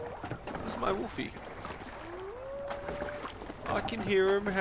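A wolf howls in Assassin's Creed Valhalla, a rising then level tone held for about a second, set among boat and water sounds with a person talking.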